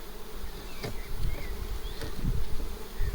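A steady buzzing of many honeybees close by at a small single-frame split hive, with individual insects droning past over a constant hum.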